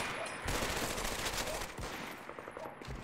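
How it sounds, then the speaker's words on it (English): Gunfire in Medal of Honor: Vanguard, rapid bursts of automatic weapon fire crackling steadily, with sharp heavy shots breaking in at intervals, fairly distant and faint overall. "Who are these guys shooting at?"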